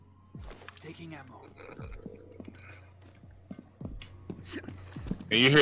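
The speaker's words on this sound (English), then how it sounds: "That's the feral grunt running." A feral grunt in Rainbow Six Extraction runs with a string of heavy, rumbling thuds in an uneven gallop-like rhythm, approaching and growing louder toward the end, with voices talking over parts of it.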